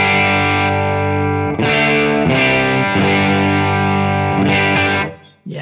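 An electric guitar plays through a modeled ODS-100 Ford amp on an FM3 with the bright switch on, giving a loud, sustained distorted tone. Several chords ring and change before it cuts off abruptly at the end, with no talking.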